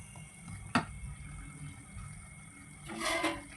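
Water poured into a pot for making rasam, a short splash early on and a longer gushing pour toward the end over a low background hum.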